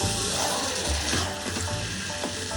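Spiced mutton being stir-fried in a pan for a Bengali mutton curry, a steady close sizzle with scraping and clinking of a spatula against the pan as the meat is tossed.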